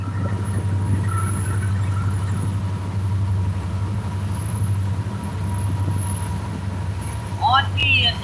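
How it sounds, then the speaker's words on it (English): A train rumbles past nearby with a steady low drone, and a faint high squeal rises near the end. It is heard from a fishing spot with someone speaking over it. "Might be another train coming, folks. Kind of sounds like it."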